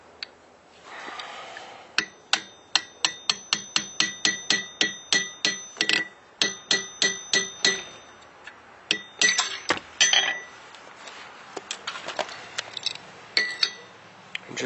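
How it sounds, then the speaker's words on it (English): A hammer drives a metal punch through a coin held in a die while making a ring, giving a long run of sharp, evenly spaced metallic clinks that grow irregular and then trail off into scattered taps. "I'll follow it up with another punch or something to push that all the way through."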